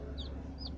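Chickens kept on a home terrace in Chennai cluck softly over steady low background hum, with two brief higher calls in the short stretch.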